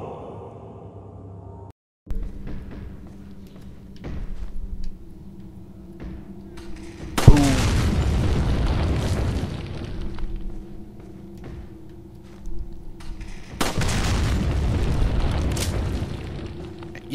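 A tripwire explosion sets off heavy booming blasts in Resident Evil 4, two loud bursts with rumbling tails separated by quieter game ambience, with speech faintly mixed in.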